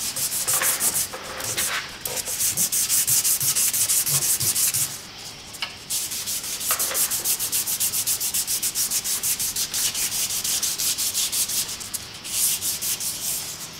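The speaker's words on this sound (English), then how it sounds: "we're down to the 220. It's going to be my final grit of sandpaper." Hand-sanding a wooden hatchet handle with fine 220 grit sandpaper: steady, close scratchy rubbing strokes run continuously with brief pauses, loud and alone without talk.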